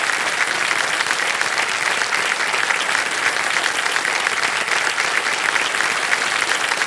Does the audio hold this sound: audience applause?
yes